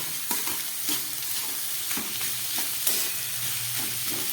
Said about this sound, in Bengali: এটা দিয়ে খুব ভালো করে সবজিটাকে আমি কষিয়ে নেব।